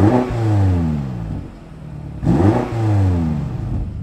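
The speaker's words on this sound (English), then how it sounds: "We'll put the engine over into Sport Plus and give it a couple of revs." A 2021 BMW X6M Competition engine in Sport Plus mode revs sharply twice, rising and falling each time, loud and close, with a brief lull between the two blips.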